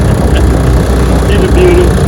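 A vintage outboard motor starts and runs in gear, a steady loud low engine drone filling the whole stretch with no break.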